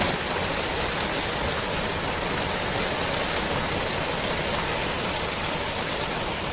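Steady rain pours down near Chuliya Waterfall and a submersible bridge, a dense, unbroken hiss with no gaps, close and fairly loud throughout and no voices.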